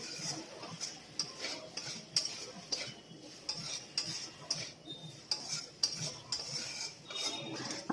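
A metal spoon stirs fried potatoes and eggplant in a pan while a fish curry is cooked, making rhythmic scraping clicks about once a second, close and fairly quiet, with no talking.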